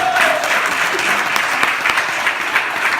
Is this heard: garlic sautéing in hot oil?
no